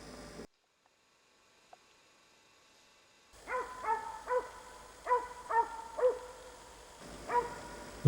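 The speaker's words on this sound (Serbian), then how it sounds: "Psi više od pola sata uporno gone pokrenutu divljač" Hunting hounds chase a fox through woodland, a series of distant bays and barks in an uneven rhythm, following a stretch of near silence.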